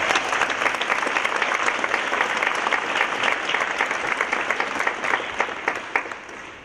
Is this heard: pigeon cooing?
no